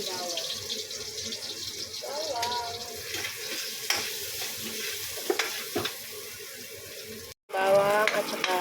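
Chopped onion and garlic sizzling in hot oil in a frying pan, a moderate crackle with occasional utensil clicks and a voice talking over it, a sudden louder burst of sizzle near the end.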